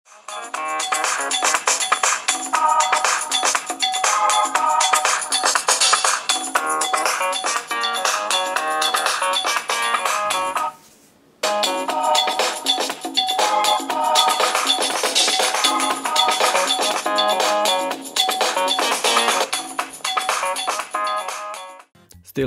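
Ringtone melody played back through the front-facing BoomSound stereo speakers of an HTC One Mini and the small rear speaker of a Samsung Galaxy S4 Mini, loud and continuous, with a brief pause partway through as playback switches between phones.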